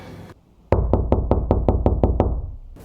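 Eight quick, evenly spaced knocks rap on a door, loud and close, after a brief pause of quiet.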